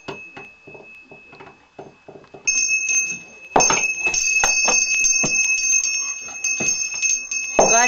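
A pet dog nudges a bell by the door to signal it wants outside: a few quiet knocks first, then a burst of jangling rings that continue close and loud for several seconds.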